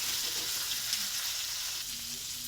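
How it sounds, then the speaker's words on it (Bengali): Pointed gourd, potato and brinjal frying in a pan, a steady close sizzle of hot oil with light stirring scrapes, continuous and alone. "পটলটা দিয়ে দেওয়া হলো, আলুটা দিয়ে দেওয়া হলো, বেগুনটা দিয়ে দেওয়া হলো, দিয়ে ভালো করে একটু নেড়ে চেড়ে ভাজবো।"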